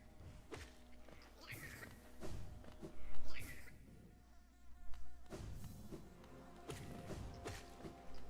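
Insect-like buzzing from a big bumbler enemy in Hollow Knight drones steadily beneath game ambience, with a few thumps and swells scattered through.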